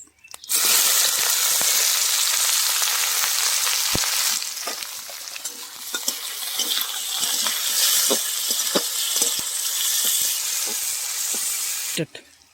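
Loud, steady sizzling of chopped onions frying in hot oil with cinnamon in a kadai, with scattered clicks and pops throughout; a brief rattle near the start and end.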